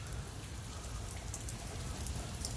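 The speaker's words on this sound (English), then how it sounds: "I ran into the rainstorm." Steady rain from a rainstorm falls and patters on surfaces in Wesley Chapel, a constant hiss with low rumbling, and no voices.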